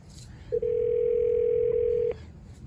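A telephone line tone sounds while a call is being placed: one loud, steady single-pitch tone of about a second and a half that starts and stops abruptly, with faint room noise around it.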